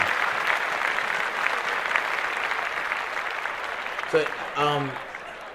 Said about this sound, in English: Let's clap that up immediately.